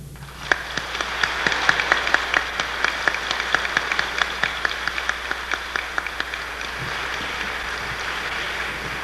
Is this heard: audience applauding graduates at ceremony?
yes